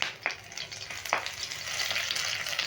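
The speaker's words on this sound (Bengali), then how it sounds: "তেজপাতাটা ফোড়নে দিয়ে দিচ্ছি দিয়ে দিচ্ছি একটা কাঁচা লঙ্কা একটা এলাচ আর একটা দারচিনি" Bay leaf, a green chilli, cardamom and cinnamon hit hot tempering oil in a fish roe curry, giving a close, dense sizzle with two sharp crackling pops early before it settles into a steady fry.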